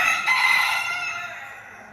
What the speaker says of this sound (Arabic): هاي الديوكه هنا، هذا هنا خوش.